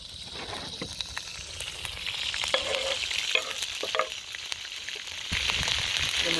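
Chilies, ginger and garlic sizzle steadily in hot oil while being stirred, with scraping utensil strokes over a continuous close frying hiss at a camp cookout before crab is added.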